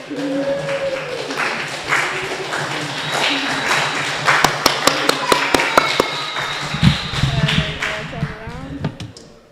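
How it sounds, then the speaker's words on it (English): Scattered, sharp hand claps from a school gathering's audience in appreciation of the teachers, a short cluster of distinct claps rising midway over steady crowd chatter and voices. "I really also wanted to give an applause to the teachers today"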